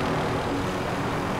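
An attack helicopter in the video game Call of Duty Warzone gives a steady, close rotor and engine drone that fills the short moment without any talk.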